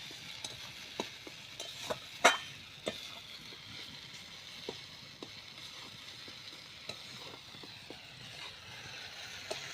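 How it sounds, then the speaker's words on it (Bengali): A spiced fish masala is stirred and scraped around a hot pan in a Bengali village kitchen, sizzling steadily under irregular clicks and taps of the spoon, with one louder scrape near the start. "এরকম অল্প অল্প জল দিয়ে মশলাটাকে নেড়ে নেড়ে নিতে হবে।"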